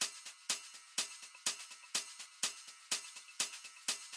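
A steady, quiet loop of crisp shaker hits on a regular pulse, with a soft, washy reversed waterfall field recording rushing underneath throughout.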